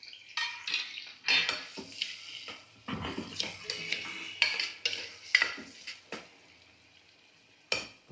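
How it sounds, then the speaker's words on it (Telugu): Green chillies and onions frying in hot oil, an irregular close sizzle broken by frequent scraping stirs and spoon clinks against the pan. "పచ్చిమిరపకాయలు, ఉల్లిపాయలు నూనె కొంచెం కాగగానే వేసేసుకోవాలండి"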